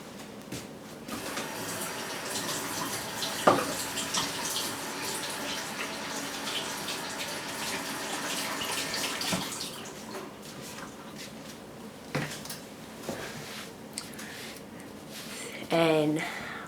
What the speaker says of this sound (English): Let me wash my hand and then I'll take it out to show you.